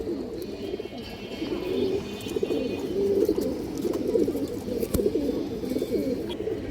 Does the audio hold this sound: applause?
no